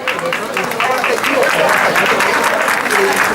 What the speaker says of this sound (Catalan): Molt bé, fort aplaudiment.